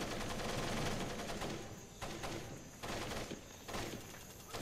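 Steady gunfire from the Splinter Cell video game, a dense crackling fusillade of shots continuing in bursts with brief lulls, fairly loud and with no talk over it.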